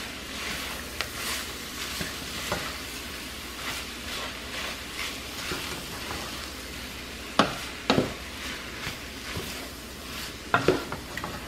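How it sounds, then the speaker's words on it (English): Picadillo with chopped Spanish olives and raisins being stirred in a pan over a soft sizzle, with a few scraping and clinking spoon strikes against the pan near the end. "Stir well."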